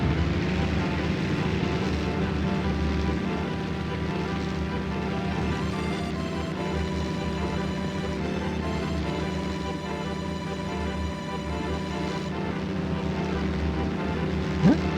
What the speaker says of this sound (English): So apparently we're just stealing his plane.